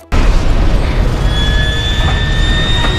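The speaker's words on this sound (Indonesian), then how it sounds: "beberapa benda di dekat Phantom tersebut pun meledak" Loud, sustained explosion rumble from the animated sci-fi film Final Fantasy: The Spirits Within, as objects blow up under gunfire, starting abruptly and holding a dense roar for about three seconds with a faint whining tone above.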